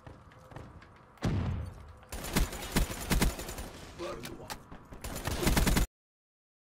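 Shotgun blasts in Call of Duty: Black Ops 3 multiplayer, a series of sharp, booming shots with a heavy opening report followed by several more in quick succession, with a voice talking underneath.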